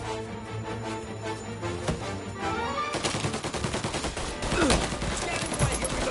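Rapid bursts of gunfire in the video game Mafia: Definitive Edition, loud and dense, with overlapping shots and a busy, music-like background throughout.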